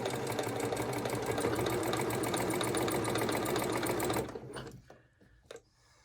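A sewing machine stitches fabric for a scarf, running fast and steadily with a rapid mechanical rattle for about four seconds, then stopping, followed by a few soft clicks and handling sounds.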